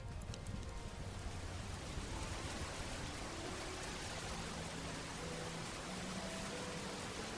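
Steady rainfall in RimWorld, the Medieval Overhaul version, a dense even hiss of falling rain holding constant at moderate level throughout, with no voices.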